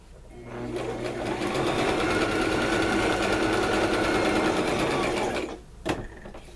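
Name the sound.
sewing machine stitching around quilt edges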